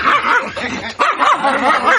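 A dog gives two quick yipping, whimpering barks close and loud, with no talk over them.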